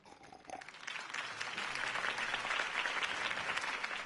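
Crowd applause after a mayoral campaign speech in Batman: The Telltale Series video game, a dense wash of clapping that swells in the first second and holds steady and loud throughout.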